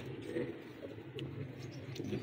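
Pigeons in a breeding setup coo softly and repeatedly, low throaty calls over a faint background murmur.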